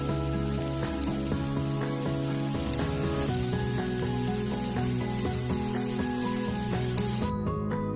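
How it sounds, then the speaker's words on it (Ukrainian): Onion and pork fat sizzle in a frying pan with a steady, close hiss over a continuous tonal background, with no talking. "І відправляю відразу цибулю з салом смажитись."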